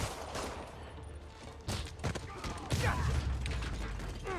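Rockets firing and exploding in the Spider-Man PS4 video game, a dense, noisy barrage of booms and blasts with mechanical rattling and creaks, swelling louder toward the end.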